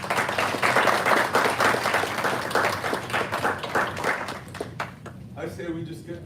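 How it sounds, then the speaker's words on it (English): Applause rolls through the audience at a university senior design expo for the students and their sponsors, steady clapping that thins out and fades in the last second or two as talking takes over. "Let's give them all a round of applause."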